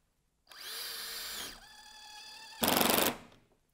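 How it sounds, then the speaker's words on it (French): A cordless 18 V drill-driver in T mode drives a self-drilling screw through a bit, starting with a loud fast whine that drops to a lower, slower hum as the screw bites, ending in a brief harsh burst. "vitesse rapide au départ, et puis dès que la vis commence à visser, diminution pour ne pas abîmer le filet"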